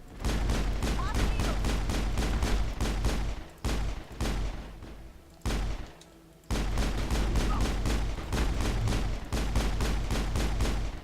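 Rapid automatic gunfire from assassins in the Mass Effect video game, loud sustained bursts of shots close up, broken by a few brief pauses before the firing resumes.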